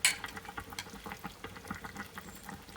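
A spoon stirs chicken nihari gravy while flour slurry is poured in. Soft, irregular wet scrapes and gentle bubbling sound close by, starting with a brief bright clink, with no voices.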